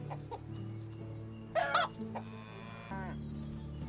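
Chicken clucking in the medieval farming game Medieval Dynasty, a few short clucks standing out over a steady low game ambience and hum, with no talk.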